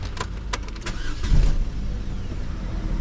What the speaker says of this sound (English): Let's crank this thing up and just see how it sounds.